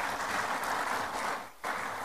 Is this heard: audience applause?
yes